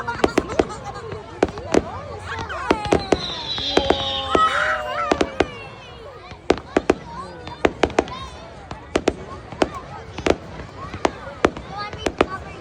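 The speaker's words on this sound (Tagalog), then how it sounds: "That is a fireworks." Fireworks burst in a long series of sharp cracks and pops, some near and loud, others fainter, at an irregular pace, with a voice and other talk heard in between.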